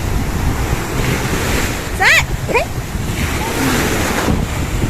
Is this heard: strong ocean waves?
yes